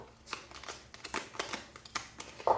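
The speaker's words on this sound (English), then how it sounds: "I'm just going to shuffle it this first time" A deck of cards is shuffled by hand at close range, giving soft, quick riffling bursts and light flicks of card edges in a quiet room.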